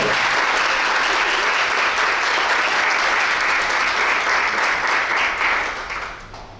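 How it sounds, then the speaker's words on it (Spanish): A large crowd applauds in a sustained, dense wash of clapping that holds steady for several seconds before tapering off at the end. "Para todos ustedes pido un fuerte aplauso por este importante acto."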